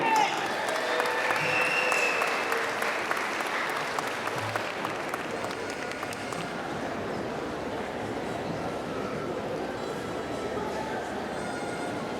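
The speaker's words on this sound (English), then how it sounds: "Let's have one final round of applause for our class of 2022." Sustained applause from a large graduation ceremony crowd fills the hall in a dense, even wash of clapping that starts loud and gradually settles, with no speech heard.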